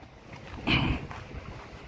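Wind gusting across a microphone, a soft rush that swells briefly then settles into a low, steady blustery noise outdoors.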